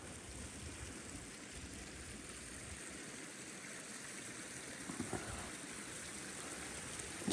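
A steady stream rushes nearby in the Scottish Highlands, a continuous broadband wash of flowing water that holds even and unbroken throughout, with no voices.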